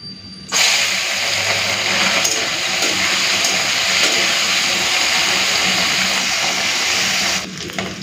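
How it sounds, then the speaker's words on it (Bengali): Mola carplet fish hit hot mustard oil with an abrupt, loud, close hissing sizzle that holds steady for several seconds before dropping off near the end. "মাছটা ভাজতে বসিয়ে দিই"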